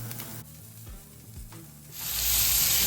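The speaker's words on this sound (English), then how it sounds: "Very minor sizzle." Chicken for gumbo hits a hot pan after some low handling noises and quiet shuffling, then breaks into a loud, close, bright sizzle that builds and holds to the end.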